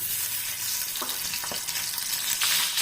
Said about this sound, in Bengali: এখন আমি রসুন কুচিগুলো দিয়ে নেব